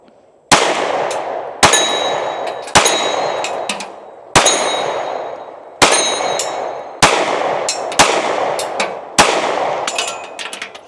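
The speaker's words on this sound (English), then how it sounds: "It's actually a pretty far shot for this little pistol." Small pistol firing at a distant target, eight sharp loud shots at roughly one-second intervals, each ringing with a metallic clang and fading echo, no talk.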